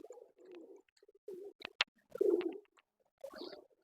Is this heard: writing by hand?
no